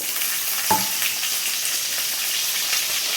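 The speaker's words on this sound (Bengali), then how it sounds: "আমি এক কড়া বসিয়ে দিয়েছি, কড়ায় তেল দিয়েছি সাদা তেল। এবারে আমি পটলগুলো তুলে দেবো।" Pointed gourds crackle and sizzle in hot white oil in a wok, a sharp splash at the moment they drop in followed by a steady, dense frying hiss throughout.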